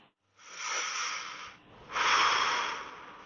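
Two long, loud, rasping breaths, an inhale then a heavier exhale, close up in near silence.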